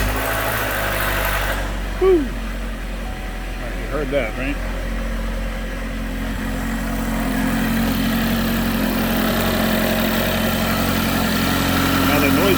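A neglected car engine, run low on oil and overdue for maintenance, starts up and settles into a steady, moderately loud idle with a faint resonant hum, while someone talks over it.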